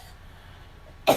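A single sharp cough bursts out near the end, close and loud after a quiet, faint room hush.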